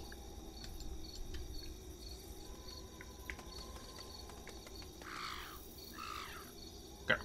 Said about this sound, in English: Got crows on me and shit.